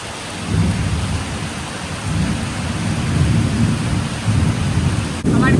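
Heavy rain falls steadily with deep rumbling thunder rolling underneath, a dense, loud, continuous roar that swells slightly toward the end, with no voices.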